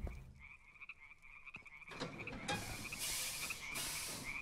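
Frog croaks in the video game Deiland, a recurring steady tone with a brighter hissy ambience swelling in the second half, moderately loud with no talking.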